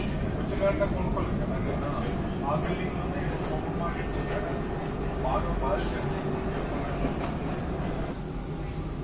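Steady rumble and rolling hum of a Dubai tram heading toward Dubai Marina, heard from inside the carriage, loud and continuous throughout with faint background voices and an announcement-like tone.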